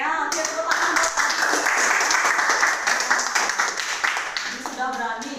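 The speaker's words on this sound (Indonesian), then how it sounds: "Oke, tepuk tangan." A room full of people claps steadily for several seconds, the applause dense and sustained before tapering slightly at the end.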